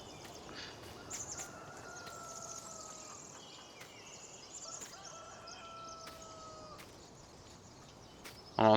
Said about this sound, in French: On entend les coqs. Normal, il est 6 heures du matin.